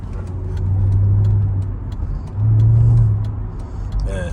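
A silver Mercedes SL55 AMG on Neomax coilovers rolls along a road, steady low engine and tyre drone heard from inside, rising in two broad swells as the car accelerates.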